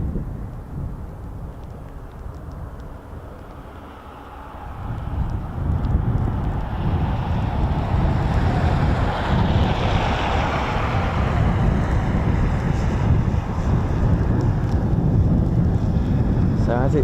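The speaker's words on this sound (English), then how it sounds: "it's now blowing this real sharp cold wind" A sharp, cold wind buffets the microphone at an airfield after rain, a loud, continuous rumbling roar that swells after the first few seconds and holds steady.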